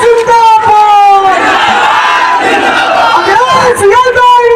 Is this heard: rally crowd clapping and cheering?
yes